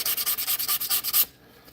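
Rhythmic back-and-forth rubbing of sandpaper on a wooden walking stick being finished on a lathe, about ten quick even strokes, close and scratchy, then stopping abruptly into near silence.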